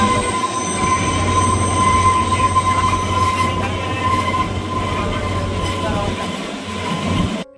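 The Kalka–Shimla toy train, the Shivalik Deluxe Express, rolls along with a loud, continuous rumble and a steady metallic wheel whine, heard from inside the carriage throughout.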